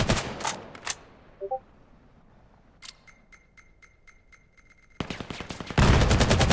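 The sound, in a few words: gunshots in a video game match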